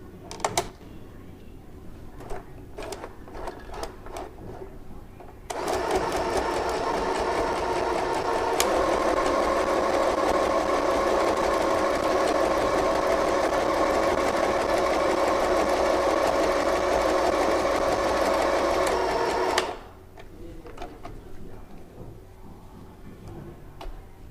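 An FHSM-519 sewing machine runs stitch pattern six in one continuous loud whirring burst of about fourteen seconds, with quieter ticking and handling noises before and after.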